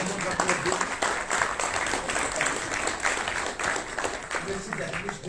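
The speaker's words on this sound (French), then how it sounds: "Je vous demande d'applaudir." Audience applause in the French National Assembly, a steady dense wash of clapping that fills the whole stretch, with voices mixed in underneath.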